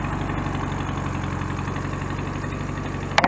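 A Volkswagen engine runs steadily just after starting, with a close, even rhythmic idle chug and a faint metallic tap near the end.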